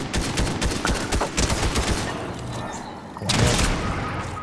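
Fortnite squads match on PS5 with dense automatic gunfire bursts rattling continuously, fading briefly and then swelling again with heavy shots near the end, all loud and close.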